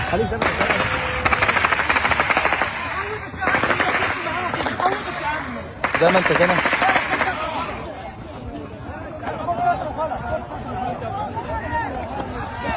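Bursts of rapid automatic gunfire rattle out in several long volleys at crowds of hungry people running for flour, with crowd chatter and shouting underneath that carries on after the shooting fades.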